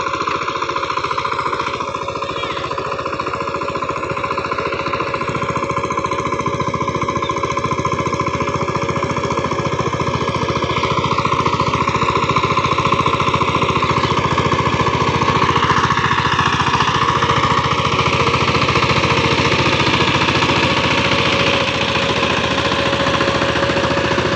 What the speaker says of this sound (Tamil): முன்னாடி வண்டி ஓட்டி ஓட்டிகிட்டு போகிறது பெரிய அண்ணா பின்னாடி பரம்பு பிடிச்சிட்டு போகிறது